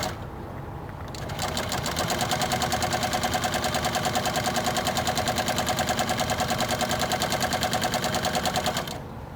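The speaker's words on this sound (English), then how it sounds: "I'm going to start with a few pleats, and then I'm not going to bore you with sewing this whole thing up" A sewing machine runs fast and steadily, stitching pleats in vintage car upholstery, a loud, even mechanical chatter that starts up, holds for several seconds, then stops.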